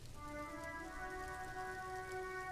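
Soft, steady rain ambience in Disco Elysium, a faint hiss of drops beneath sustained, quiet musical tones.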